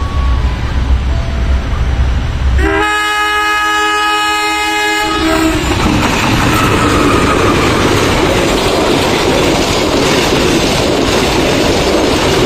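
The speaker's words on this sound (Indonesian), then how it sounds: "kita tunggu kereta api Pandalungan melintas langsung dan menyilang kereta api Logawa di jalur 2" The Pandalungan passenger train passes through Leces station with a loud, sustained multi-tone horn blast lasting a few seconds, amid steady roaring rail and wheel noise that continues after the horn stops.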